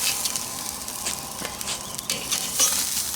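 Prime top sirloin steak, cooked sous vide, sears in a hot pan with a steady close sizzle and crackling spatter, pulsing slightly as fat pops, heard alone without talk.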